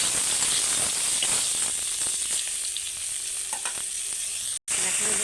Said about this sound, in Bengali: ওই তেলেতেই আমি ঝিঙেগুলো তুলে দেবো